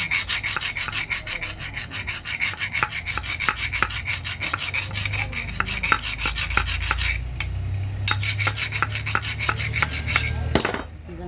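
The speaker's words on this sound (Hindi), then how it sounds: "यहाँ से ये जंग है रेती की सहायता से उतार देना है" A hand file rasps rust off a metal part of a cooler motor, repeated rhythmic scraping strokes close up, steady for several seconds with a brief pause near the end, no talk.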